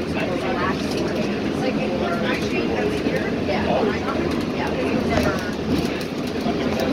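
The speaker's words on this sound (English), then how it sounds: "Oh, another train?" A train passes with a steady low rumble and rattle throughout, while voices talk over it.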